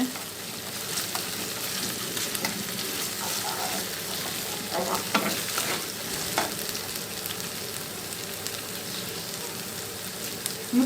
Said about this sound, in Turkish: Suyunu sıkarak tavamın içerisine alacağım şimdi.